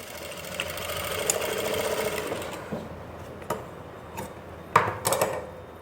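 A sewing machine with its normal presser foot runs in a steady close whir of rapid stitching, broken near the end by a few sharp clicks and knocks.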